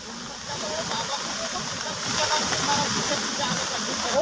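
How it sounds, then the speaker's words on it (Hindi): The swollen Kondiya river pours over a bridge in monsoon flood, making a steady, loud broadband rush with splashing texture throughout, and voices can be heard over the roar. "पुल के ऊपर से पानी बह रहा है"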